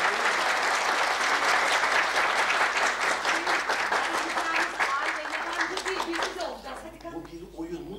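Studio audience applauding at a TRT television comedy show, dense sustained clapping that starts loud and gradually thins toward the end.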